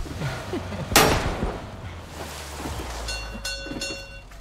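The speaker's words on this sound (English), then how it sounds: "There's a train in the way." A train rumbles past in PUBG squads gameplay, with a sharp burst near the start followed by a steady rolling rumble and faint rhythmic clatter, loud and close with no talk over it.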